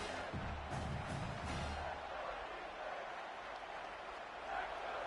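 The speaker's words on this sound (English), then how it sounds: "These fans are going absolutely nuts." Stadium crowd in a college football video game cheers with a loud, sustained roar and scattered shouts as the defense tries to stop a red-zone drive, broad and continuous throughout.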